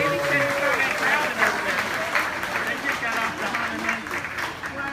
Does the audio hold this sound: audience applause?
yes